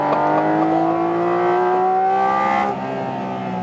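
Naturally aspirated flat-six of a 2022 Porsche 718 Cayman GT4 RS in Sport Plus mode, a loud, steady engine note with rising harmonics that drops away near the end.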